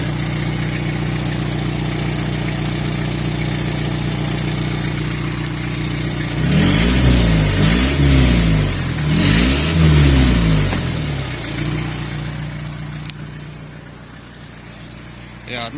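A Fiat Ducato van engine with a suspected exhaust blow idles roughly, then revs up twice in quick surges that rise and fall in pitch, loud and close, before settling back to a lower drone.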